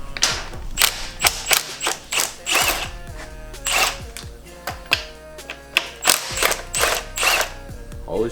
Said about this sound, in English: Zach's gonna pull off the alternator and power steering pump.